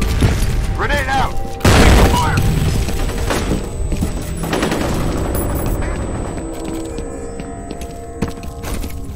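Chaotic firefight in the shooter F.E.A.R.: a loud blast and sharp bursts of gunfire early on, then a tail of scattered shots and clatter, with shouted radio-style voices mixed in.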